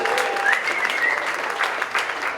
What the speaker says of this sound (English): Let's give both these teams a round of applause.